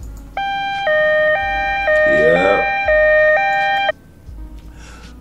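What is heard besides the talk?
alarm siren sound effect going off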